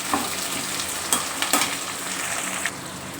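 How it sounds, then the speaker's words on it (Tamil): Leftover garlic sautéed and stirred in a pan for a garlic pepper curry, giving a close, bright hiss of frying with a few sharp spatula scrapes and knocks over a brief stretch and no voice. "வெள்ளைப்பூடு அரைச்சி ஊற்றுறதுக்கு போக மிச்சம் வச்சுருந்ததை நம்ம போட்டு வதக்கிக்கலாம்"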